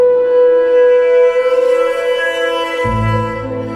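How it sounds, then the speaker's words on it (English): Piano strings bowed with horsehair from a violin bow for an eerie horror film score: a steady, sustained droning tone, joined near the end by a heavy low rumble, with no voices. "even used a horsehair from a violin bow to bow the strings on the piano."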